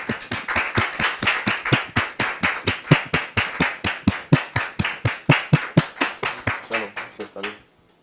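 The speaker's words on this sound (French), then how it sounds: "sous vos applaudissements, s'il vous plaît" A French television talk-show studio audience claps in steady, loud, rhythmic unison to welcome a guest, about three beats per second for roughly seven seconds, then stops abruptly.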